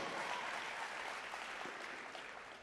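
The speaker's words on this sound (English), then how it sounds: "Y'all give them a round of applause" A crowd at a BLEXIT rally applauds law enforcement and military members, a dense wash of clapping, quiet and distant, holding steady for a few seconds.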